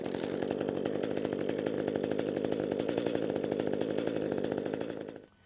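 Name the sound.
gas hedge trimmer engine running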